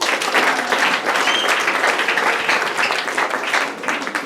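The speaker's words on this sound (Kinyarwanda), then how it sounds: "Komera Imana mu mashyi" Church congregation applauding during a service, a dense, steady wash of many hands clapping at close range for the whole stretch, with no voices rising above it.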